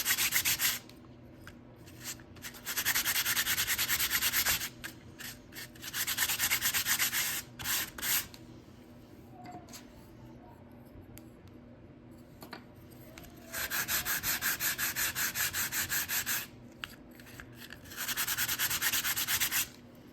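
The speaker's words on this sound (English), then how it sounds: "take that finer grit and start sanding around the" Fine-grit sandpaper scrapes back and forth on plaster in several brisk bursts of rasping strokes, separated by short quiet pauses.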